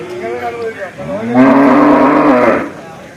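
Cattle at a rural livestock fair at Kollannur market on Vishu day in Kerala give a loud, close moo that rises and holds for over a second, preceded by softer lowing, with no talk over it.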